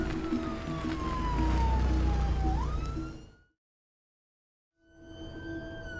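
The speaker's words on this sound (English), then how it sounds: "We're going on blue lights and sirens just so we get you to see a doctor straight away rather than waiting" An ambulance siren wails on blue lights, a steady rising and falling tone that fades out, drops to silence, then returns at moderate distance.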